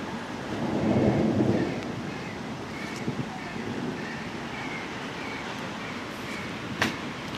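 A thunderstorm over Kimovsk, with broad rolling rumble swelling early and then settling into steady rain and wind noise, plus a sharp crack near the end; faint voices sit under it.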